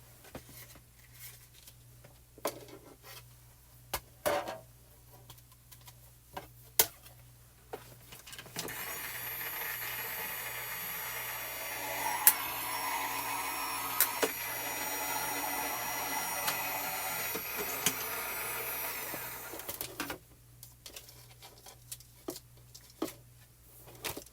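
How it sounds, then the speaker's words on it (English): A die cutting machine runs a die through for about ten seconds with a steady mechanical whir and hum, close and moderately loud, framed by quieter handling clicks and taps before and after. "So let's run this through the die cutting machine."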